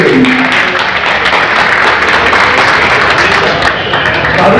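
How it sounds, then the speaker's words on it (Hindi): A crowd of listeners applauds at a gathering, a dense, loud wash of clapping that holds steady from start to finish, close and filling the space. "तालियां।"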